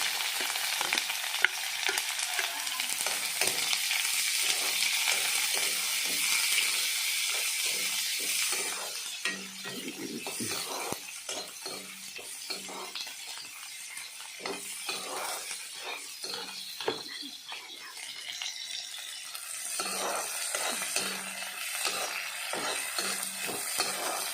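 Finely chopped onions fry in hot oil with dried chillies and bay leaves, a loud continuous sizzle broken by frequent rhythmic scraping and clinking of a spatula stirring the pan, close up with no talk.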